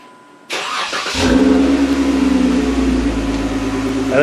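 A Jeep JK fitted with an aftermarket exhaust cranks and fires up nearby, then settles into a loud, deep, rumbling idle that holds steady to the end.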